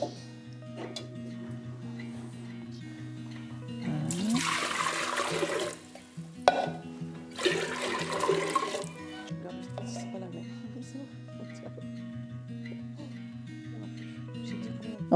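Filtered water pours into a jar for elderflower lemonade, two bursts of rushing, splashing liquid separated by a short pause over a faint background hum.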